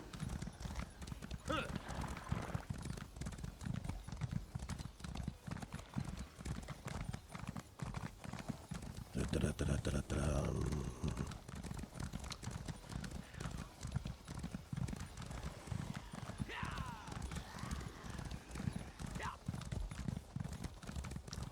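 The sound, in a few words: horse galloping hooves in video game Elder Scrolls Online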